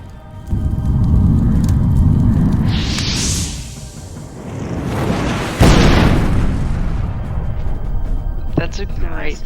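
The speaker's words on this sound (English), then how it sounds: "huge explosion down in the camp" An explosion sound effect played during a tabletop role-playing session, a deep rumbling boom with a rising whoosh, then a second sharp blast and debris rumble fading out, loud and close.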